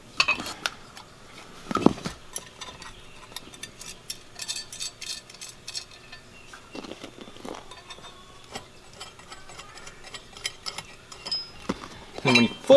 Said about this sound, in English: you're going to start by just removing the 4 bolts that are holding it in